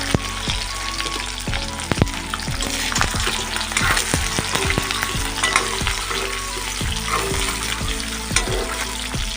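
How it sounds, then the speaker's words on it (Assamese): Eggs fry in a pan with oil for an Assamese cauliflower and egg dish, sending up a loud, steady sizzle and crackle broken by sharp spatter pops and utensil clicks, with no talking. "অকণমান কালাৰ অহালৈকে ফ্ৰাই কৰি ল'ম মই ডিমকেইটা।"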